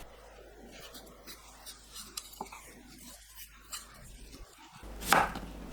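A knife slices a washed, partly peeled cucumber into 0.5 cm rounds, making soft, quiet, irregular cuts on a board. One louder, sharper cut comes near the end.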